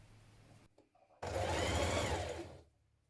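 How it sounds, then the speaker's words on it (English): After a few quiet handling sounds, a sewing machine set to a long stitch whirs loud and close for over a second, stitching around the raw edge of a fabric sleeve band, then stops. "what I like to do is just stitch around this raw edge just to keep it in place before you pin it to the sleeve"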